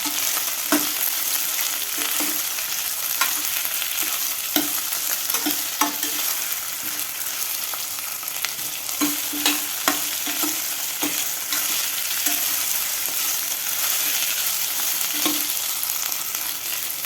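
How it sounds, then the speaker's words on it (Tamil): Ivy gourd (kovakkai) sautéing and sizzling in a pan, with a steady bright hiss broken by repeated scraping, clinking stirs, loud and close with no talking. "இதையும் நல்லா வதக்கி விட்டுக்கலாம்."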